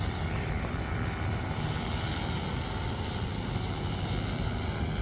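An agricultural spraying drone drones on continuously overhead while applying pesticide to farm fields, its loud steady propeller whine unbroken and heard alone, with no voices.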